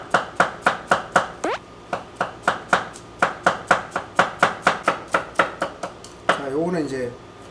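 An onion for a sauce is chopped on a board in a brisk, even run of about twenty close knife strikes, ending with a brief shuffling sound.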